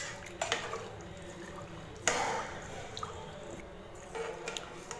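Rice and rock salt water are stirred in a pot for ghee rice, giving soft wet squishing and dripping sounds with a few sharper scrapes, quiet and close.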